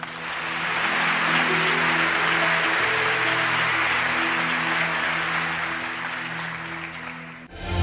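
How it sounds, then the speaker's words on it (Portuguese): Steady applause for the Lord from a Christian worship crowd fills the space, holding for several seconds before fading out, with sustained music tones underneath. "Dê um forte aplauso ao Senhor."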